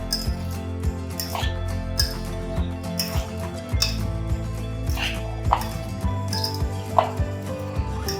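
Fruit chaat with apple, banana and sugar being stirred in a bowl, a spoon clinking against the sides in irregular taps over a steady background hum.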